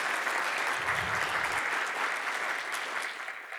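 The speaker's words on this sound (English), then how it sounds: "let's give a round of applause to our fantastic panel" Sustained applause from an evening audience for a panel at a Renaissance studies talk on Mexican choirbooks, a dense steady wash of many hands that fades slightly toward the end.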